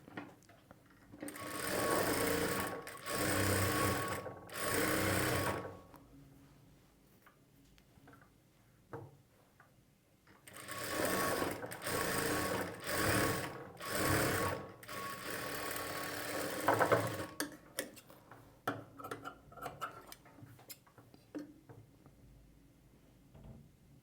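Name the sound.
sewing machine stitching a blouse layer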